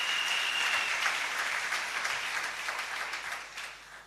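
A church congregation applauds with steady, dense clapping that carries throughout and gradually thins toward the end.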